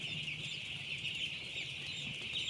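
A dense flock of three-day-old chicks in a farm brooding house peeps continuously, many high, thin chirps overlapping into a steady chorus with no pauses.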